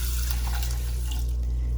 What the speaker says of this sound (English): we've got our 2 cups of water that we'll put in here.